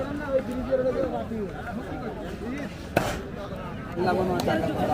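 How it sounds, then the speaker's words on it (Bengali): Local country chicken chopped into pieces at an outdoor village market, a few sharp cleaver chops standing out amid nearby talking and crowd chatter. "পিস করা হচ্ছে আমাদের দেশি মুরগি"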